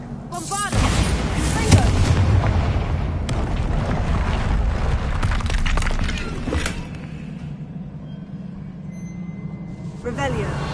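A Bombardo spell blast goes off in Hogwarts Legacy: a loud, booming explosive burst starts the clip and is followed by sustained rumbling, crackling debris and layered game effects.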